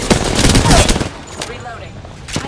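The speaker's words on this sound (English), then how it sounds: "I'm under fire." Dense bursts of rapid gunfire in the battle royale game Apex Legends, loud and close, crackling for about a second then thinning into scattered shots, with game voice and effects mixed in.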